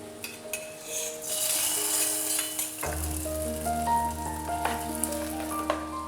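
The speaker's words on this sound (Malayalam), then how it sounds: "നമുക്ക് കടുക് വറുത്ത് ഇട്ട് കൊടുക്കാം." Hot mustard tempering with dried red chilies and curry leaves poured over cooked chembu puzhukku (taro mash) sizzles loudly and steadily, with a sharp burst as the oil hits and a few clinks of a pan or spoon; no one speaks.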